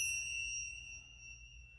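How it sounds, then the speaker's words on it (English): Small bells strike once with a bright metallic ding, the pure ringing tones lingering and slowly fading over a quiet low hum, with no voices. "So, found my bells."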